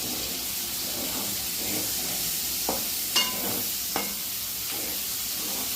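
Chopped onion goes into okra frying in a pan, giving a steady, close hiss of sizzling oil with a few light clicks of stirring and no voices.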